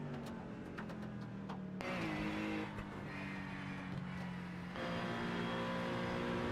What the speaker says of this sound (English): Did you know the LMP2 was a V8 engine?